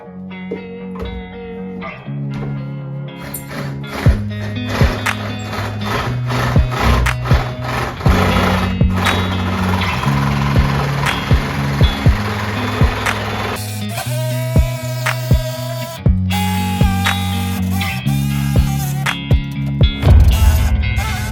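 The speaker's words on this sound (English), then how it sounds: "The cut came out pretty good for using a Sawzall" A Sawzall reciprocating saw cuts along wall studs in a continuous loud buzzing run. Its motor pitch shifts in stepped stages, with short pauses and restarts over about twenty seconds.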